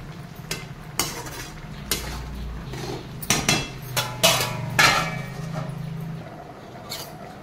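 A metal lid is set onto a pot of dried-pea ghugni: a series of close clanks and knocks of metal on metal, irregularly spaced, over a faint simmer.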